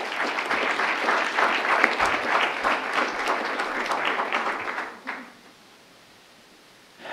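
Audience at a lecture welcoming Professor Lemley with sustained, dense applause from a full room that fades out abruptly after about five seconds, leaving near silence.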